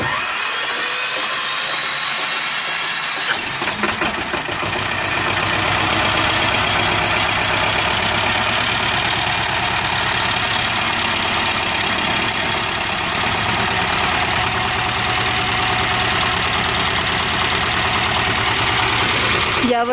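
A T-25 Vladimirets tractor with a Czech starter cranks over and fires up after a few seconds, then settles into a loud, steady diesel idle with a continuous rattling knock that runs to the end.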